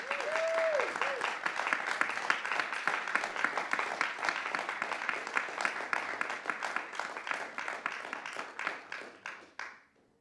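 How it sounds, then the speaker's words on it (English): An audience at a film event applauds steadily for about ten seconds, dense clapping that slowly thins and fades out at the end, with a brief voice near the start. "A round of applause for Moctesuma Esparza."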